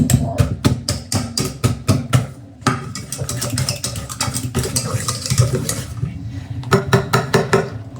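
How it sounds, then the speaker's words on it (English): Ripe bananas are mashed for banana bread in a bowl, with rapid, rhythmic scraping and tapping of the utensil against the bowl, loud and close, in bursts with brief pauses. "So you are going to mash your banana"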